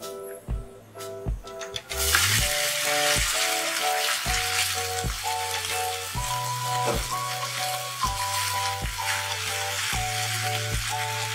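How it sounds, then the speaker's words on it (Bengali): Cooked rice tips into a pan of fried tempering for South Indian lemon rice, and a loud, even sizzle takes over under repeated sharp tones, with the rice stirred through. "এবার এর মধ্যে ভাতটা দিয়ে দিচ্ছি।"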